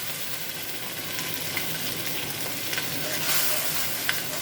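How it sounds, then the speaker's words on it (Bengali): A spice masala with coriander powder is sautéed slowly in a pan, giving a steady sizzle throughout with faint scraping stir strokes and light clicks and no talking. "তো আমার মশলাটা এখন আমি আস্তে আস্তে কষিয়ে নিব।"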